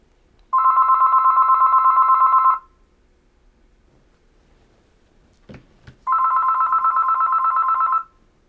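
A Panasonic KX-TG175C DECT 6.0 cordless answering-system phone rings on an incoming test call: two long, loud electronic ring bursts close by, split by a quiet gap with a couple of soft clicks, and no talking.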